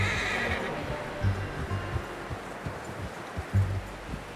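A horse in Red Dead Redemption 2 whinnies near the start, followed by snorts and the occasional hoof clop over quiet outdoor ambience, close and fairly clear.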